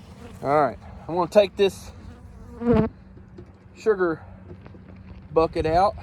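Bees swarm around a sugar-water bucket as it is lifted out, giving a steady insect buzz beneath someone talking close by.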